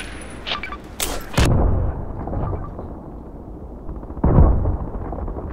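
A grenade explodes in the shooter game Contract Wars. A couple of sharp shots come first, then a loud boom with a lingering rumble, and a second heavy blast hits near the four-second mark.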